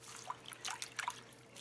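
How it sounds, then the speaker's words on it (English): Harvested microgreens are rinsed in a bowl of water by hand, giving soft, close little splashes and trickling drips in a few quick bursts. "Just give it a nice little massage, rinse it off"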